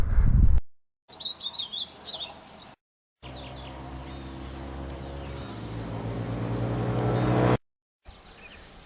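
Small birds chirp and tweet in the countryside of Nariño, southern Colombia, in quick bright bursts at moderate distance. The sound is broken by short silent gaps and backed by a steady low outdoor hum.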